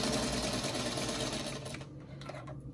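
A sewing machine stitching a quilt block hums in a steady, rapid mechanical whir close by, then slows and breaks into shorter bursts near the end, with no talking.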